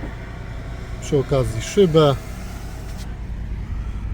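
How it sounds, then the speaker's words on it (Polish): A Peugeot 3008 GT Line with a 1.6 BlueHDi 120 hp diesel and automatic gearbox runs steadily after starting, its low engine hum continuous beneath someone speaking briefly nearby. "Odpalimy samochód"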